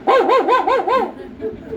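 A voice imitates a dog barking, giving five quick, loud, rising-and-falling barks in a row, then trailing off into softer sounds.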